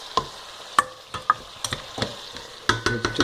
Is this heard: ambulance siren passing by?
no